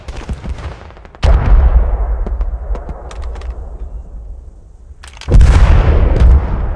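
A satchel charge detonates on enemy emplacements in the Squad 44 video game: two heavy, booming blasts a few seconds apart, each with a deep rumbling tail, amid scattered sharp gunfire cracks of a battlefield.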